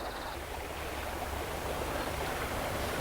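River water rushing steadily where a smaller tributary meets the main river beside a deep pool, a constant broad hiss and gurgle, close and unbroken.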